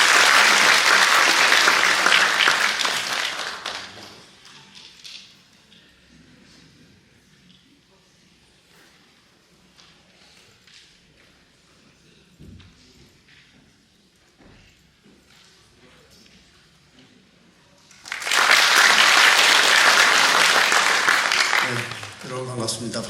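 An audience at a discussion forum on disability residential facilities breaks into loud applause to welcome a speaker, which fades to quiet room noise with faint footsteps and thuds before a second burst of clapping swells up near the end.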